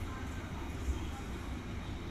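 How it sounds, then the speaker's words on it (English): A train on the Gawler line rumbles past close by, a steady, low, continuous roar of rolling wagons with no clear breaks for the full stretch. "Look how long that train is."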